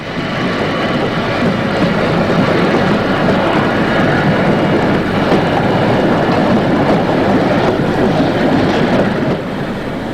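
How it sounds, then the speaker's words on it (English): An oil-burning Neubrandenburg-type steam locomotive pulls away on an East German line toward Nordhausen, giving a loud, steady, dense rumble and hiss that holds at close range for the full length with no voices. "The loco departs for Nordhausen."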